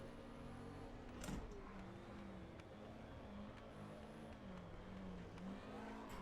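A Porsche 917K racing car on the Nordschleife in a racing game, its engine droning steadily at high revs with pitch rising and falling through shifts and corners, fairly faint, with a brief sharper burst.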